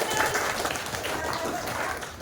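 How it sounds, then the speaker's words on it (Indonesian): A classroom of students claps briefly in a dense burst of applause, with a voice speaking over the clapping. "Iya, tepuk tangan."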